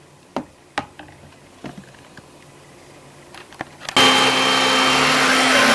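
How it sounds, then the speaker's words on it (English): Bosch Athlet cordless vacuum cleaner, a few clicks and knocks and then a sudden switch-on into a steady, fairly quiet whirring hum. "quick demo of the Bosch Athelet. Yeah, it's very quiet actually."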